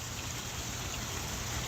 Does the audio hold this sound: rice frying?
no